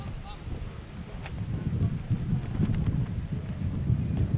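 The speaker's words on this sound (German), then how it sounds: "Ja, unglaublicher Wind." Strong wind buffeting the microphone at an outdoor beach volleyball final, low gusty rumbling that rises and falls continuously, with faint background voices.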